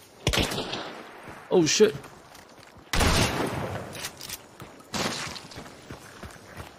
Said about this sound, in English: there's another team shooting at me